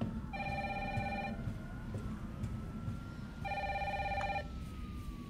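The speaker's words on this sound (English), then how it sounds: "We're gonna answer the phone." A video game telephone in Resident Evil 3's Raccoon City rings in two long electronic bursts separated by a pause, clear over a low ambient rumble.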